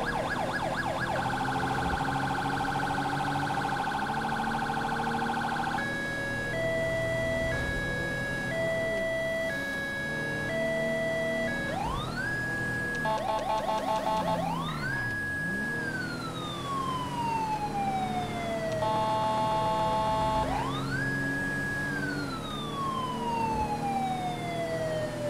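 Police car siren on a code 3 response in GTA V with the LSPDFR mod, a loud, continuous siren switching between wailing sweeps and fast alternating yelp and hi-lo patterns over a steady engine drone, with no talk.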